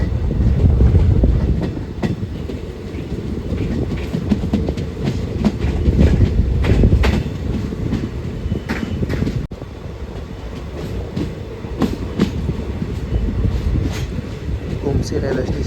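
A passenger train on the Mysuru to Talaguppa line runs loudly on its tracks, with steady rumble and repeated clickety-clack wheel beats close by, and someone talks over the din.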